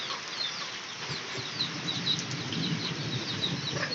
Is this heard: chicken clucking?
yes